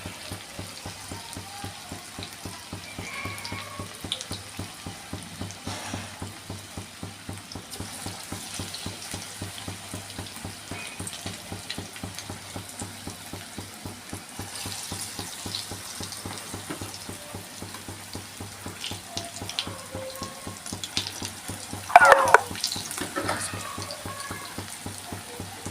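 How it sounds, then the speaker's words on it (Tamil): Aloo bonda dipped in gram flour batter deep-fry in hot oil with a steady, dense crackling sizzle that continues throughout, with a few louder pops and bubbling bursts toward the end. "இதை அந்த கடலை மாவில் நினச்சி போண்டா சுடணும்."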